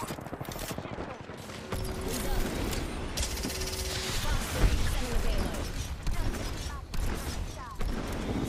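Rapid bursts of automatic gunfire and scattered shots in an Apex Legends firefight, loud and close, mixed with game effects while a player talks over the action.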